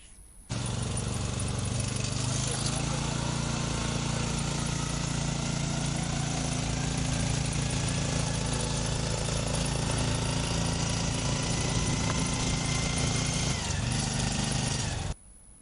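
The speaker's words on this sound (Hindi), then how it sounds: "इस कार का इंजन 305 सीसी का है।" A 305 cc rope-start engine on a student-built off-road car runs loud and steady, a dense, rattling drone that holds for about thirteen seconds before cutting off abruptly.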